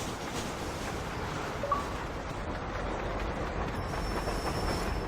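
A train rumbling along railroad tracks in a video game, where a hogtied woman lies on the rails, comes through as a steady rolling roar with a faint squeal of wheels and no voices.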